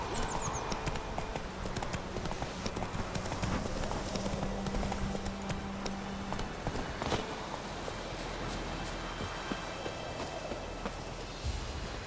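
The horse Roach's hooves pound out a steady, rhythmic galloping clip-clop in Witcher 3, continuous and fairly loud over a dense background of game ambience.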